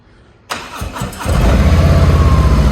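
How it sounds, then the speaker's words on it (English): A 2021 Harley-Davidson Road Glide Special motorcycle cranks and fires up close by, a brief starter churn giving way to a loud, steady, rumbling idle with a pulsing beat. "I gotta fire this thing up and ride it around"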